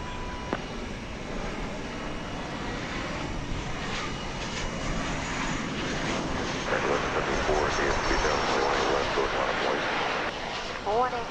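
Airplane taking off at DFW Airport, a steady broad engine roar swelling louder over several seconds from a distance, with radio chatter from the tower heard over it.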